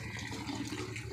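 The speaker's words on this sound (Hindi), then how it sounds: "पानी लगाना है, पानी जा रहा है" Steady broadband rush of water flowing continuously into a village irrigation channel in Punjab, Pakistan, close and fairly loud, with no voices.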